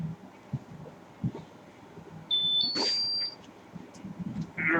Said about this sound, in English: thing's apparently got a buzzer on it. Or a beeper. Piezo transducer of some sort.